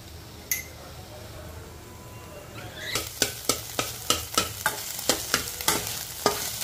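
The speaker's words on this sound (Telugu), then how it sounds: "ఇదిగా చూడండి గుడ్లు కొంచెం ఫ్రై చేయించండి" Eggs frying in a pan for a pesalu (green gram) curry, with a soft sizzle under a run of sharp, regular clanks from stirring or scraping in the second half and one early clink.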